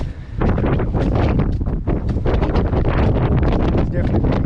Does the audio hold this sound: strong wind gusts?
yes